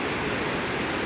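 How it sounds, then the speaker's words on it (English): The Reekie Linn waterfall roars as a dense, continuous wash of rushing water, loud and close, with no talk. "So it's quite a significant waterfall, and quite a dangerous one if you're not being careful."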